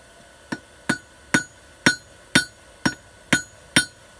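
A hammer strikes hot steel eight times at a steady, even pace while drawing a taper on the tip of a hook, each blow a sharp, ringing clang with a brief decay.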